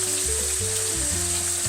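A few fries dropped into hot oil on a stove give a steady, close crackling sizzle of deep frying, bubbling evenly without pause.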